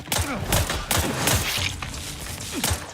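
Enemy gunfire in the video game The Outer Worlds 2, a handful of sharp shots and thuds spaced irregularly at close range over a busy game background.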